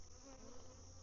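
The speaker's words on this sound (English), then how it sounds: "those are the bees that are flying around camera" Honeybees around a hive swarm close by, their steady buzzing drone constant and fairly quiet throughout with no voices.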